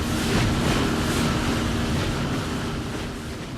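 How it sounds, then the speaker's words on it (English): A speedboat racing at up to 85 kilometres per hour on the Shotover River through deep canyons near Queenstown, heard as a steady loud roar of engine, rushing water and wind buffeting the microphone, with no talking. "Nowhere near as peaceful is a trip on a speedboat."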